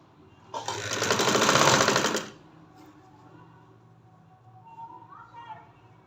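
A sewing machine stitches a one-year-old girl's frock in a single short burst of fast whirring, followed by quiet handling and a soft voice.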